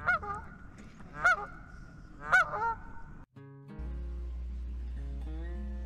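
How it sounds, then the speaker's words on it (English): Three loud nasal honks from geese ring out over low outdoor rumble in rural Appalachia, then cut to a steady tonal music-like drone. "Gotta get it before them geese get here."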